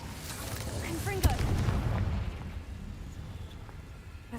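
Confringo blasting spell from Hogwarts Legacy going off as a single sharp burst, followed by a rumbling, crackling blast that fades over a few seconds, with game music and effects underneath.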